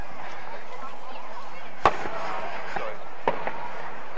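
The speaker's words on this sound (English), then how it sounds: "as we watch the fireworks" Fireworks at a Christmas parade go off as a couple of sharp distant bangs over a steady crowd murmur and background hubbub.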